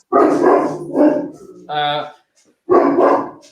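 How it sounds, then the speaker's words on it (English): A dog barks several times indoors, loud and near, in bursts separated by short pauses. "Oh, my dog's barking at something"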